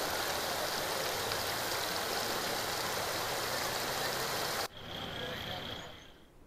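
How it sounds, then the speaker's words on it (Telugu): A flooded Isuka Vanka stream in Kadapa district rushes with a loud, steady broadband roar during heavy rains, then cuts abruptly near the end to a quieter, thinner water wash. "ఇసుక వంక వాగు ఉధృతంగా ప్రవహిస్తోంది."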